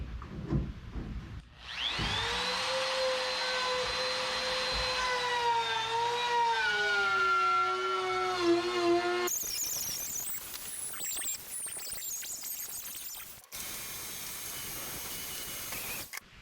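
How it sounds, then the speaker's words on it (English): A router cuts along the plywood top edge of a model railroad benchwork module frame, spinning up with a loud, steady harmonic whine that wavers in pitch through the cut, then gives way to harsher broadband noise near the end. "it helps hold the board straight when I'm routing the plywood on the top edge"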